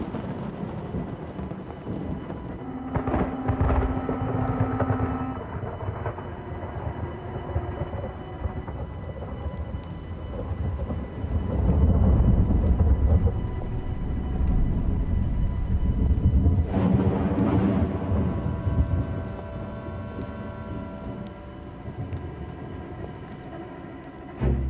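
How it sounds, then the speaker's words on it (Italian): Thunder rumbles low and long in an Italian comedy film, a rolling roar that swells in the middle and fades under a faint tonal hum, with no talk over it. "Accidenti. Che tuoni."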